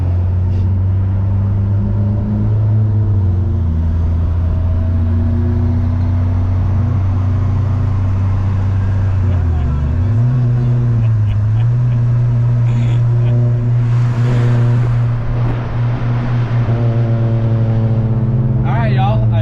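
A boosted Honda Mugen three-wheeler with a newly replaced radiator idles loudly and close by, a steady low droning engine note that dips briefly then settles back, with a few faint sounds in the background.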